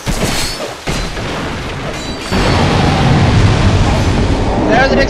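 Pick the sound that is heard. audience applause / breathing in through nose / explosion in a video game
explosion in a video game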